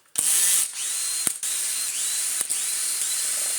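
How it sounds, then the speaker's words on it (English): A power screwdriver whirs in several steady bursts, unscrewing tight screws from a Numatic Henry vacuum cleaner, each run close and loud and separated by brief clicks. "And it seems we have to remove these 4 screws here that hold this end."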